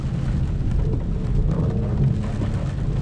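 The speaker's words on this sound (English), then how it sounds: "Damn, it's raining crazy though." Heavy rain pours over wet New York City streets near Times Square, heard from a modified BMW 440i: a steady, dense low roar of downpour and road wash, continuous and fairly loud throughout, with no talking.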